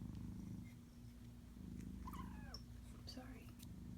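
A sleeping kitten purrs in a soft, continuous low rumble close by, very quiet overall, with a few faint high chirps and a voice murmuring briefly over it.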